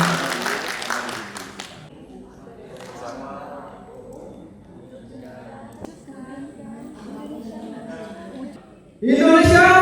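Audience applause at a youth empowerment seminar on design thinking, bursting out loud and broadband for about a second at the very end, right after a stretch of someone speaking to the room.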